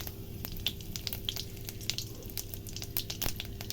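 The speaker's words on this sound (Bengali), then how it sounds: "আমি এর মধ্যে সম্বার দিয়ে দিচ্ছি সাদা জিরে, তেজপাতা" Cumin seeds and bay leaves crackle in hot mustard oil, a faint, scattered popping with small ticks over a low sizzle and no voices.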